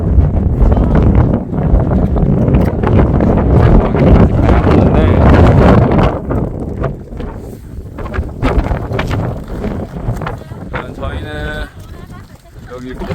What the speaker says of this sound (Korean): 여기는 위에 바람 부는 게 엄청나죠?